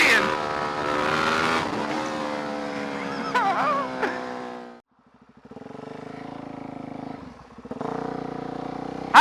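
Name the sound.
vehicle engine revving while off-road wheeling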